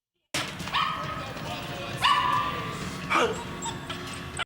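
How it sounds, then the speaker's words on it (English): A dog in a film scene barks and whimpers in several sharp, high yelps and whines, fairly loud and close, over a dense background of other film sound. "Did she manage to get the dog?"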